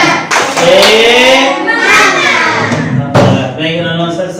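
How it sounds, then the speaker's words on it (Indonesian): Children doing a rhythmic group spirit clap in a classroom, loud and close, with bursts of clapping mixed with chanting voices. "Yuk sekali lagi kita tepuk semangat."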